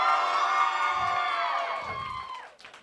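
A church crowd lets out a deep, loud cheer that holds for about two seconds of massed voices, then fades away toward the end.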